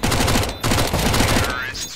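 Rapid, dense submachine-gun fire from a Mac 10 in the CS:GO video game, near and loud in sustained bursts with a brief pause mid-way, and voices mixed in beneath.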